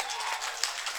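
Audience applause at a Tamil Valli Thirumanam stage drama in Kongampatti near Keezhavalavu, a dense, steady wash of many hands clapping together, loud and continuous through the brief moment.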